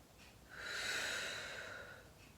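One slow, airy breath pushed out through the mouth during a stretching class, swelling and tapering over about two seconds, close and quiet with no talking.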